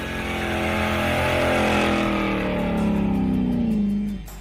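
A 1950 Mercury rat rod engine with a Wyand 871 supercharger and twin 850 Holley carbs roars loudly up close, a sustained heavy rumble with a rising whine that cuts off near the end.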